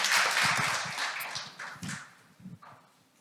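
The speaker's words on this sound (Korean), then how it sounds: "박수 한번 우리 쳐드릴까요?" An audience at a 2022 unification conference claps, starting with a brief burst of applause that quickly thins into a few scattered claps and fades out.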